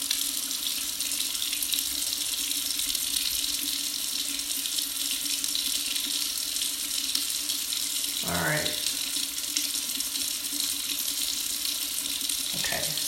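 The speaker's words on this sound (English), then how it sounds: "we're done with the running water." Tap water runs steadily into a bathroom sink during a skincare routine, a constant close hiss with a brief voice sound partway through.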